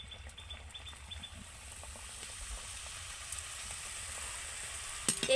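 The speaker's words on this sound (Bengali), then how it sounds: "পরের বাকি ফুচকাগুলোকে আমি সেমভাবে ভেজে নেব।" Fuchka puris deep-fry in hot oil with a faint, even hiss of bubbling that holds steady throughout, ending with a couple of louder knocks.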